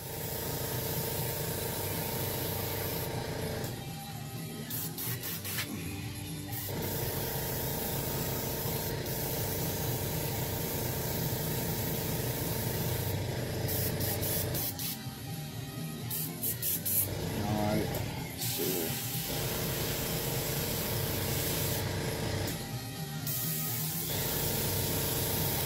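An airbrush sprays paint over rivets in a continuous close hiss, with steady airflow broken by a few short pauses and bursts across the stretch, no talking heard.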